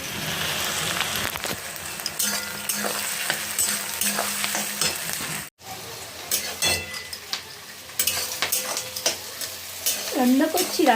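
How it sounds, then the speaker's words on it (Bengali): Potato pieces sauté in a hot pan, a busy close sizzle broken by frequent stirring scrapes and light clinks of a utensil, with a short gap midway. "রান্না এই তো একটু কষাচ্ছি"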